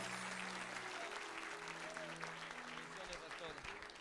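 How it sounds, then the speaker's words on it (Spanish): Church congregation applauding steadily throughout, dense sustained clapping with voices faintly mixed underneath. "Dale un fuerte aplauso al Señor"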